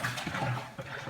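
Homebrew liquid pours steadily into a bucket, giving a continuous close gush and splash with no speech over it.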